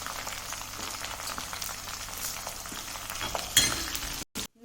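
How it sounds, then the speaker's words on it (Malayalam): Ginger and curry leaves sizzle in hot oil in a pan for homemade lemon pickle. A steady, close crackling hiss flares into a sharper burst near the end before cutting off abruptly. "കറിവേപ്പില ഇട്ടിട്ടില്ല,"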